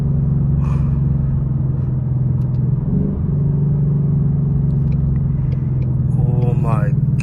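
Ford Mustang GT V8 idling through an H-pipe exhaust, a steady loud low rumble that holds throughout with a brief dip midway and a rise near the end, while a person talks over it.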